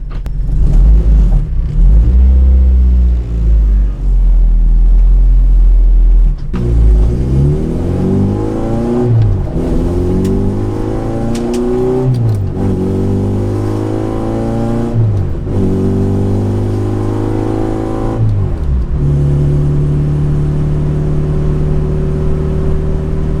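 Acura RSX with a return-style fuel system accelerating on the road, a loud engine revving up through the gears in repeated climbing sweeps with brief drops at each shift over a constant rumble.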